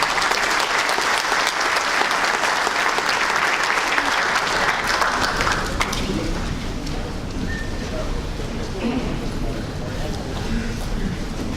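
An audience at a mining safety seminar bursts into loud applause to welcome a doctor to the stage. The clapping fades after about six seconds, and a voice with room noise follows.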